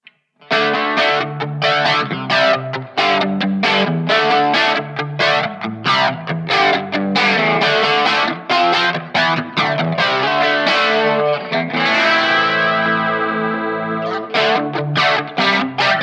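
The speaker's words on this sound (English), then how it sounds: "Flanger." Electric guitar through a Positive Grid Spark practice amp with a flanger effect, choppy rhythmic strummed chords and a sweeping, whooshing sustained chord near the end, loud and steady with no talking.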